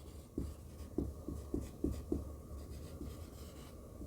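Marker strokes on a classroom board, a series of short scratchy scrapes in an uneven rhythm of about eight marks, close and fairly quiet against a low room hum.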